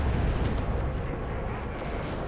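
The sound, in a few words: Orbital Strike explosion in video game Dawn of War 2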